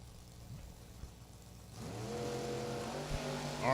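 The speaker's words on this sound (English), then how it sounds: "RPMs come up and they're gone." Drag race cars at the Holley National Hot Rod Reunion, C comp eliminators, with a low engine idle that jumps into a rising roar as they launch down the strip, heard at a moderate distance.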